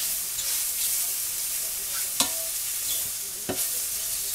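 Flour being stirred into hot oil in a pan for a roux while making Salisbury steak, a steady soft scraping and sizzle with a couple of sharp utensil clicks against the pan, close and alone.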